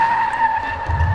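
A BMW car's tires skid in a short, sharp squeal, a sustained high whine over a low engine rumble lasting just over a second.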